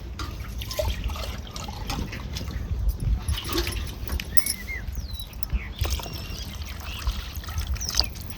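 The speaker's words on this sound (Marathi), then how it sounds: "अजून एक अर्धा तांब्या ओतते." Water poured from a pot into a cooking pan while making a village-style rice dish, a steady trickling and splashing stream that runs for several seconds, close by, with no talking.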